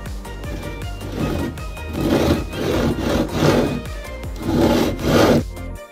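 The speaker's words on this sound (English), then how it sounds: "we've sawn the feet, for want of a better term, off each of those window panes" Hand saw cutting the feet off wooden window frames during a shed build, several rhythmic rasping strokes in bursts, close and fairly loud, with no talking.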